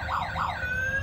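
A remote-control toy police car's small electronic siren wails in quick rising-falling sweeps, twice, then settles into a steady tone, fairly close.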